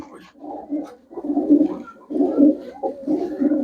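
Pigeons coo close by in a steady run of low, throaty burbling phrases, each swelling and fading with short gaps between.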